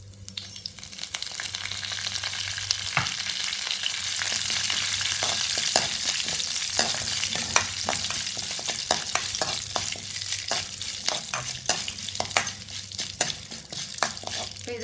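Red chillies and curry leaves crackle and fry in hot oil, a dense close sizzle running throughout with frequent sharp pops and occasional clinks of a spoon against the pan.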